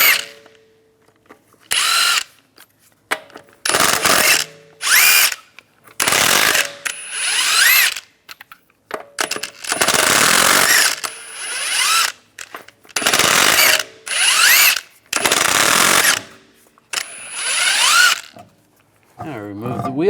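An impact-style power tool with a 22mm socket spins wheel lug nuts off a 2010-2016 Cadillac SRX in loud, sharp repeated bursts, with short pauses between each nut.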